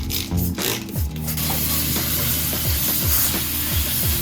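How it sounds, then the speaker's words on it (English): Avocado oil spritzed over broccolini sitting in an air fryer basket, a steady close hiss with a sizzling, frying texture that runs unbroken for several seconds, with faint rhythmic clicking underneath and no voices. "Spraying it with some avocado oil and then seasoning it."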